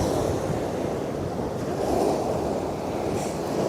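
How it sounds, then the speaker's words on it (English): Waves from a passing RWS ship wash against the shore at the Westerschelde during a tall ships sail-out, a loud, steady surging roar mixed with wind buffeting the microphone. "Waves from the RWS ship."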